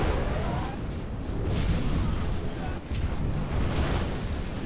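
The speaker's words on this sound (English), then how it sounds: "We have launched our nuclear missile." A nuclear missile launch in Command & Conquer Generals Zero Hour, a loud sustained rumbling roar with deep booming texture that continues steadily throughout with no pauses.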